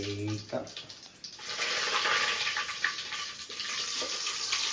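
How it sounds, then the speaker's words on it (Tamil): Ghee poured into a cooking pot for a prawn biryani, with cloves and cardamom going in, heard as a soft continuous liquid hiss and light sizzle, faint, with a voice speaking briefly at the start. "நெய் ஊற்றிக்கிருக்கோம்"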